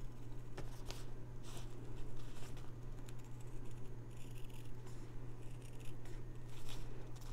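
Scissors trim thread and fabric on an embroidered hand sanitizer holder, making soft, close snips and rustles over a steady low hum, with no talk.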